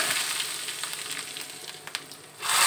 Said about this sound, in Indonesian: setelah panas tinggal disiram ke bumbu halus yang sudah saya haluskan tadi nih Bunda tuh